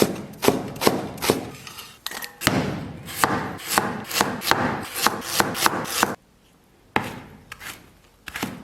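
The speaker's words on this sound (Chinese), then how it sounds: "剩下这半段切细刀片" Knife chopping through braised pork intestine on a cutting board, a fast run of sharp close knocks in uneven bursts, a short pause, then a few more cuts.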